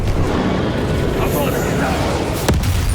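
A Confringo fire spell bursts in the Hogwarts Legacy video game, one sharp blast near the end over a dense, continuous roar of battle effects and spellcasting.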